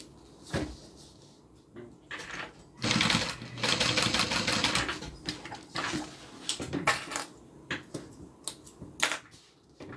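A sewing machine stitches the exterior of a zippered bag in short, rhythmic bursts of rapid needle clatter, close by, with scattered clicks and handling noises between runs.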